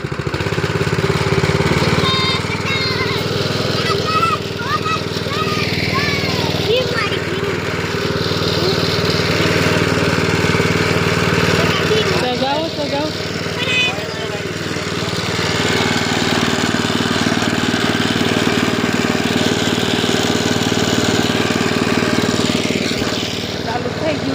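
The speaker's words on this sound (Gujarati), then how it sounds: "ટ્રેક્ટર રિપેર કરે છે" A freshly repaired farm tractor engine runs steadily on a farm plot, a continuous mid-pitched chugging drone with some clatter, while people talk over it.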